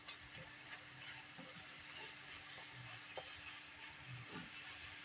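Fajita filling seasoned with garlic powder cooks down in a pan with a faint, steady sizzle and light bubbling, under occasional soft utensil taps and no speech.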